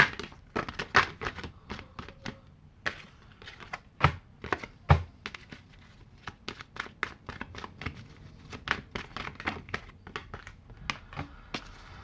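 Tarot cards being shuffled and pulled during a reading, a close, quiet series of irregular riffling flicks, taps and slides with short pauses between.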